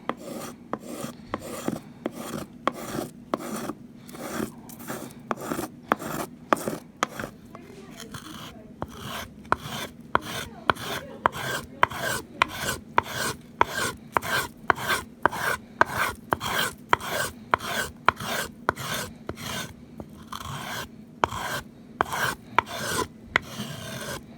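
A small plane shaves across a violin top during arching, making a rapid, even series of short, close, raspy strokes that repeat with a steady rhythm.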